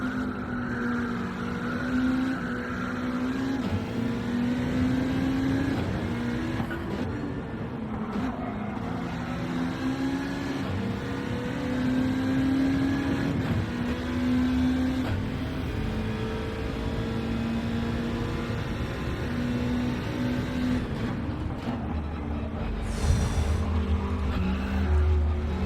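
Race car engines in a Gran Turismo 7 online race, a steady droning engine note that holds and shifts pitch through gear changes and cornering, with other cars whining faintly in the background.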